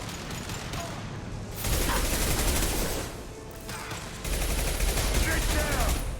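Sustained automatic gunfire from the video game Mass Effect 2, loud and dense in two bursts with a quieter stretch between, with voices in the background.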